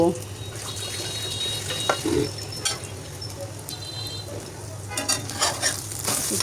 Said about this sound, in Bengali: ডিমটা সুন্দর করে ভেজে একদম পারফেক্টলি ভেজে কেটে কেটে তুলে নিব